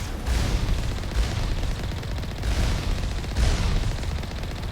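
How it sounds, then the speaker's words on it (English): Missile fire in the video game Mass Effect Legendary Edition, a dense, continuous roar of booming blasts and rumbling explosions that swells in repeated waves, loud and close. "They're firing the missiles."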